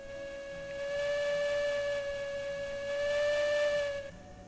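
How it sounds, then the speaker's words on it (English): A steam locomotive whistle in the video game Railroads Online blows one long, steady, pressure-driven tone for about four seconds, loud and close, then cuts off. "the whistle has like pitch and stuff to it."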